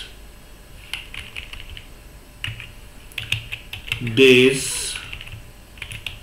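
Fingers type on a computer keyboard in quick bursts of close, crisp key clicks, pausing now and then, with a brief spell of talking in the middle.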